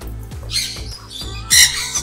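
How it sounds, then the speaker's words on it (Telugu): Several birds squawk loudly at a resort aviary in Bangalore, harsh repeated calls in short bursts with one especially loud burst near the end, close to the listener. "ఇక్కడ ఎన్ని బర్డ్స్ వచ్చేసినాయి ఒకేసారి"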